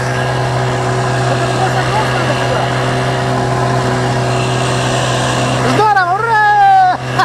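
A small outboard boat motor runs at a steady, close, humming drone with a constant pitch, and a voice speaks over it near the end.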